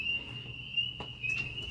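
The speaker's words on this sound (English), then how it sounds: "one spring peeper will start and then all the rest will follow him" Spring peepers calling at a frog pond, a steady high-pitched chorus of thin whistled peeps carrying on continuously with faint background rustle and a brief soft knock partway through.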